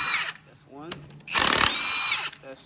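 An impact driver or power drill spins out 15 mm bolts on the rear axle of a Ford Transit during a brake job, a loud broadband whirring burst in the middle after some talk and quieter mechanical clicks.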